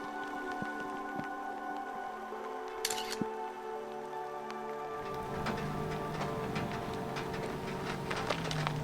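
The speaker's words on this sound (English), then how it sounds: "Okay, now it really is raining in Death Valley." Rain falling in Death Valley, a steady soft patter with scattered drop ticks that grows denser and a little louder partway through, heard up close with no voices.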